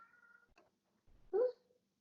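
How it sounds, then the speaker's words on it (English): A single cat meow, loud and close, rising then falling, with a few soft rustles before it and quiet after. "Meowing."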